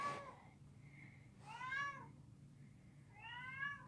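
A cat bawling outside a door, three drawn-out meows spaced a second or so apart, moderately close over a quiet room hum.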